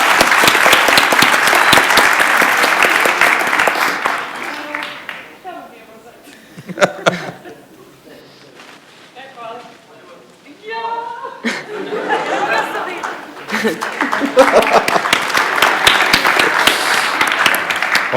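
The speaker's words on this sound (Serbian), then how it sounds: "Molim jedan aplauz za Anju." Applause for a performer named Anja at a 2015 WWVrsac event: loud sustained clapping from a crowd at the start, fading into chatter and laughter mid-clip, then swelling back into dense applause.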